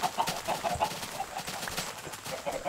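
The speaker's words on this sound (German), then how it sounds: "Ey, Hühner!" Chickens clucking in Minecraft, a cluster of short, repeated clucks at moderate level over a busy game background, with no talk.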